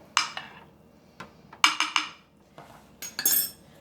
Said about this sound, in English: Gonna give that a good stir.